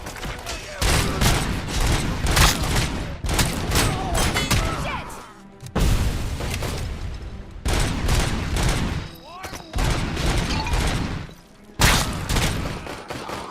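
Gunfire in RoboCop: Rogue City comes as heavy, sustained bursts of rapid shots and thumping booms in repeated salvos, broken by brief pauses, loud and close throughout.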